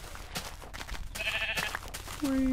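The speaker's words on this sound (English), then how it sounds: "Sheep." Sheep bleating in Minecraft, a single drawn-out bleat near the end following some game sound effects and background noise, no talking.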